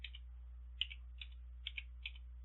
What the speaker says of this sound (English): after I type each individual letter, I'm going to tap Enter on my keyboard